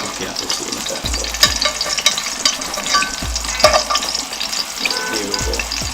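Green bananas frying in hot oil for a Jamaican dish, a steady crackling sizzle with occasional stirring knocks and scrapes, close and fairly loud, with no talking.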